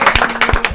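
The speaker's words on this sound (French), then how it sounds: "Applaudissements pour le seul unique, le Papa Noël." A studio audience on a French television show claps to welcome Santa Claus, a short, loud, close burst of distinct, separate hand claps.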